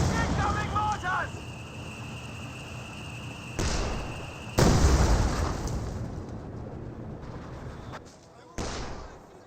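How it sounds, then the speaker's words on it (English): A mortar barrage in Company of Heroes 2 strikes with several heavy booming impacts over continuous battlefield rumble, the loudest blasts close and spaced a second or more apart. "Incoming mortars!"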